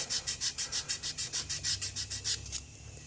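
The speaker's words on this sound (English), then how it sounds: "I'll give that a little bit of a sanding after with one of the ultimate buffing sticks" Quick rhythmic rubbing strokes, about a dozen in a steady back-and-forth pattern, close and soft, as a buffing stick sands glue marks on a Tamiya 1/35 T-34/76 plastic tank model.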